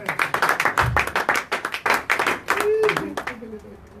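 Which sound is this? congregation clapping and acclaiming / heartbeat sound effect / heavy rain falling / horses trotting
congregation clapping and acclaiming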